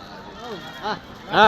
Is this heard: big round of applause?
no